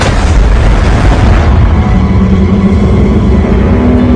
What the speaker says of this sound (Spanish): de repente se escucha una enorme explosión.